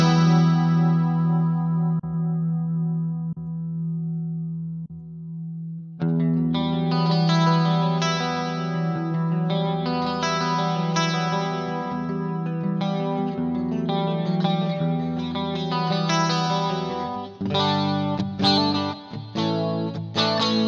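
Electric guitar played through a Roland GP-100 digital modeler on a clean setting with chorus-like shimmer: a sustained chord rings and decays, then a busier run of picked notes and chords continues steadily, close and unaccompanied by speech.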